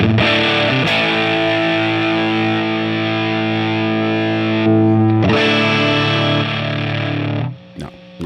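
Distorted electric guitar run through a Logic Pro X treble boost plugin, loud, sustained chords ringing for several seconds, a brief stop, then another long strummed chord that cuts off near the end.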